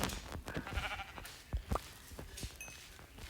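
Short sheep bleats in Minecraft come in a few bursts amid small clicks and shuffling game sounds, fairly close.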